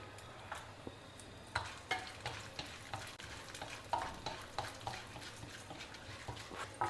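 Urad dal and chana dal frying in a tablespoon of oil give a soft, close sizzle broken by regular scraping stirs of a spoon in the pan, quiet overall with no voices.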